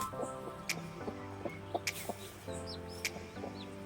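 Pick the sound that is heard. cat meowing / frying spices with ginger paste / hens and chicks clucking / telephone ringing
hens and chicks clucking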